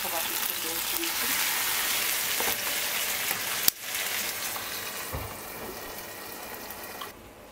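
Dough frying slowly in a pan over low heat gives a steady, close sizzle and crackle that briefly drops away partway through, then resumes more quietly. No talking is heard.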